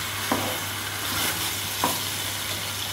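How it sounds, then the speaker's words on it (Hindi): Chicken frying in a pan with salt and turmeric, giving a steady, close, loud sizzle with a few soft stirring scrapes and no talking. "ये मैं नमक और हल्दी के साथ चिकन को अच्छी तरह फ्राई कर रही हूँ।"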